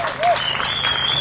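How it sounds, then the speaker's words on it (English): Applause from a crowd gathered on a field at a World Refugee Day event, a dense, steady wash of clapping that carries on throughout, with faint voices and a whistle mixed in. "So let's give all of these nations a nice round of applause"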